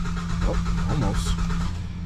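A 2007 GMC Acadia engine that has sat unused for a while, fitted with a new battery, sputters and rumbles up close as it tries to catch, with a voice over it.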